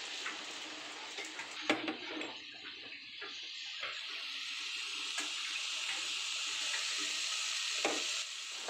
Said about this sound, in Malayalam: ഇനി ഉള്ളിയും തക്കാളിയും പച്ചമുളകും കറിവേപ്പിലും ഒക്കെ ഇട്ടത് ഒന്ന് വഴറ്റിയെടുക്കാം.